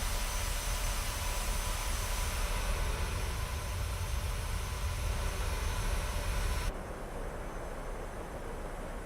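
A steady, loud airplane engine drone in Microsoft Flight Simulator plays continuously, with a broad hiss throughout that drops to a lower level near the end.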